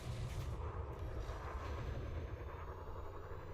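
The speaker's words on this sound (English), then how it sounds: "Someone in a fighter is shooting at an Asp scout who is trying to escape with his landing gear down." Gunfire from a fighter craft shooting at an Asp scout in a space video game: a continuous, muffled, rumbling barrage with a low roar underneath, fairly faint and steady throughout.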